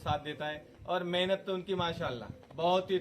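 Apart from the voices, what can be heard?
No distinct noise like a dog, phone or traffic.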